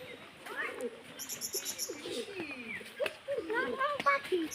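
Birds at a zoo in Sreemangal give repeated short chirps and coos close by, mixed with a child's and an adult's voices talking over them.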